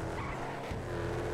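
A Gauntlet Hellhound muscle car races and skids in a GTA FiveM game, a brief loud burst of engine roar and tire noise with no voices.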